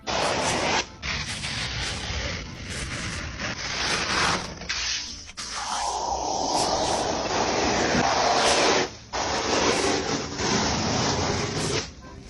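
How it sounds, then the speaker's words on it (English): Protective film peels off an insulation foam board from a home improvement store, a long, close, crackling rip that runs almost continuously, broken by a few brief pauses as the peeling restarts. "It was covered in this film, so enjoy some ASMR of me peeling it."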